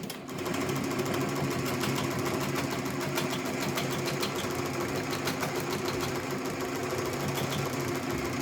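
A Tajima TMBR1501c embroidery machine stitches a cap, giving a steady, loud mechanical whirr and rapid needle chatter. It runs continuously and nearby, with no talk.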